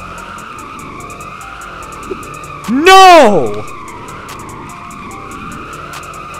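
A drift car's tires squeal sharply on a drift track in Southwest Florida, one loud rising and falling screech lasting under a second over steady engine drone, with a voice shouting briefly.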